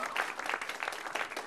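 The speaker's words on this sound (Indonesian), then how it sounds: "sekali tepuk tangan buat Temon." A stand-up comedy audience claps steadily for a comedian in a brief, fairly soft burst of even applause.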